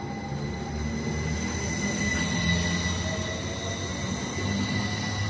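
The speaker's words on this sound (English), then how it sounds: "Let's just see this train out and then we'll head off." A train departs a station near Menston, its wheels rumbling and squealing on the rails in a steady, fairly distant roll with high metallic tones, and no one talking.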